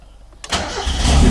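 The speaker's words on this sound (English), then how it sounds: "You fire the car up." A Mazda Miata engine fitted with an air-fuel ratio gauge cranks briefly with a quick whir, then catches and fires into a loud, rising idle close by.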